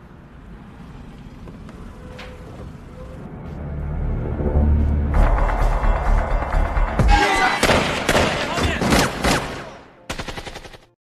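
A shootout in the film War (2007), between FBI agents and gangsters, starts as low rumbling tension, then builds into loud, dense bursts of gunfire with sharp cracks and impacts. It stops abruptly, leaving one last short burst.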